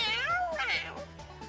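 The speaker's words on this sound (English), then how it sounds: "Pam, what does a cat say?" A cat meows several times in a row, clear and close: drawn-out, rising and falling calls, each ending with a short tail, over a quiet low hum.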